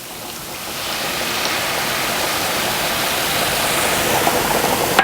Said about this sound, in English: Okay, now I'm going to pour in the Marsala reduction.